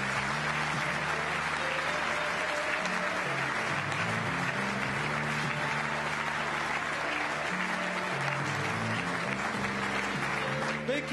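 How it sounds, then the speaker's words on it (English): Sustained audience applause at a 2007 industry awards show honoring an entrepreneur award winner, a broad continuous roar of clapping with crowd murmur beneath, holding strong and steady throughout. "Big boom of applause, ladies and gentlemen."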